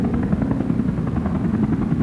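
A helicopter's steady, loud rotor throb and engine drone fill the air without a break, close and continuous, with no voices over it.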